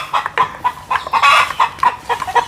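A village hen clucks close by in a rapid, uneven series of sharp calls, rising into a longer excited squawk in the middle before settling back into short clucks.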